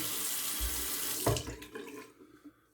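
Water runs from a faucet at a sink as shaving brush tips are dipped for wet shaving, a steady hiss of flow broken by a brief splash before it trails off and stops.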